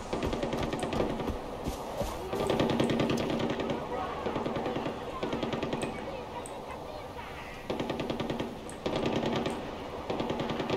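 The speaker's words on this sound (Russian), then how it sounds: "Стреляют, блин" Gunfire in Far Cry 4 with machine-gun bursts crackling in steady volleys over a background din, stopping and starting repeatedly, with faint honking-like sounds and a voice talking now and then.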